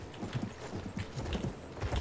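Horse hooves clip-clop in a quick, close rhythm in the Battlefield 1 video game, a steady patter of hoofbeats that runs alone for a couple of seconds.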